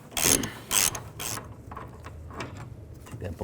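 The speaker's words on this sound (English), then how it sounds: "take this bolt out. I'm going to use a 15mm socket." Hand ratchet with a 15mm socket loosening a bolt on a 2000-06 GMC Yukon fuel tank strap, giving a few bursts of quick ratcheting clicks close up, then quieter intermittent clicking.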